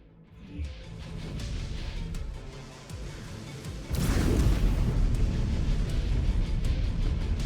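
Mech weapons fire in MechWarrior 5: Clans during heavy city fighting. A low rumbling barrage builds, then a sudden loud blast about halfway through kicks off a sustained, booming explosion roar.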